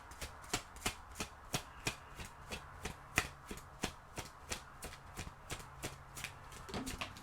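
Oracle cards shuffled in a steady riffling rhythm, about twenty crisp, evenly spaced slaps, close and fairly quiet, with no voice.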